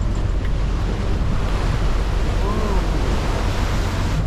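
Surf and breaking waves on the North Sea heard from a sailing boat, a steady loud wash of water with wind rumbling across the microphone, no voices.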